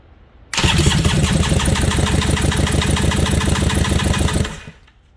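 The 2001 Yamaha SUV engine cranks steadily for about four seconds during a compression test on cylinder one, with its spark plug out. The starter pulses in a fast, even, loud rhythm close by, then stops abruptly.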